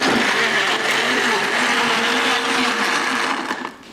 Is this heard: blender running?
yes